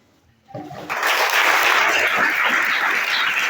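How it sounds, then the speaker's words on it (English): Audience applause at a youth crisis paper presentation bursts in after a quiet moment, building within half a second into loud, sustained clapping from a large crowd. "Keep clapping, keep clapping, keep clapping, keep clapping."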